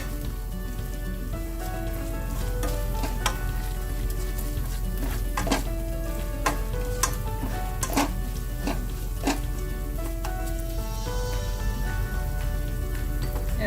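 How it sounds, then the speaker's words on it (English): Ginger garlic paste sizzles steadily in a hot pan for a tilapia and green mango fish curry, with scattered clicks and scrapes of stirring and mashing over a constant frying hiss, no voices. "Let's give the ginger garlic a quick stir. Just mash it around like that so it starts frying."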